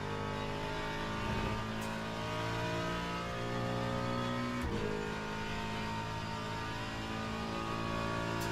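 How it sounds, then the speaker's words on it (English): A race car engine in the Le Mans Ultimate racing game revs and accelerates through the gears, a continuous buzzing tone with rising pitch and brief dips at shifts, steady and close with no speech. "this car sounds a lot better than the other ones"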